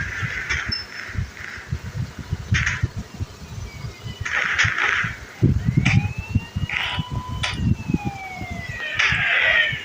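In the Indian Bike Driving 3D video game, a police car siren wails in rising and falling sweeps. It repeats several times over a rumbling engine and traffic noise.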